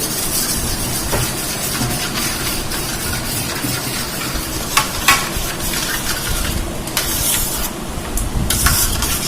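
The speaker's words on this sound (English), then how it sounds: "Now we are going to mix it properly." Paneer tikka marinade with added lemon juice being stirred by spatula in a bowl, giving a steady wet scraping and squelching texture throughout, with brief sharper scrapes near the end and no talking.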